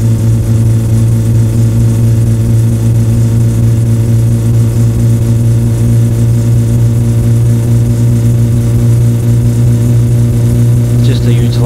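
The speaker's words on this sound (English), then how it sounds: "So I was going to try doing it on this just to make this rev out like up to 9-10k." A car engine in the video game My Summer Car holds a steady, loud mid-to-low drone at high revs, constant throughout with no talk.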